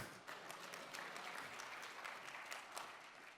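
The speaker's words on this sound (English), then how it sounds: "I guess that's applause from some people with scars." Applause ripples through a tech conference keynote audience, a dense, fairly quiet patter of many hands clapping steadily for a few seconds, with no voices over it.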